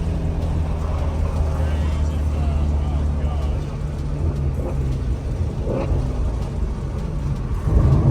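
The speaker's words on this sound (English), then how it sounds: "That was a downshift? Yeah, this is higher RPM." A Ford Mustang GT350 V8 runs as a steady, loud, low rumble through a downshift, swelling slightly near the end, with people talking over it throughout.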